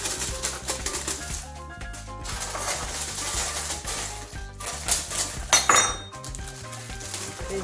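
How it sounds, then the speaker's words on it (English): Vegetables dropped into a soup maker, a run of irregular clattering knocks and clinks against the container, some sharper hits toward the end, close and moderately loud without talk. "In goes the vegetables."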